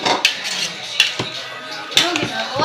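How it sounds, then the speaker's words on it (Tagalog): A spoon stirring sliced watermelon and Mr. Gulaman in a bowl, three or four bright clinks against the bowl's side with soft sloshing between, close and clear, no speech. "Haluin natin siya."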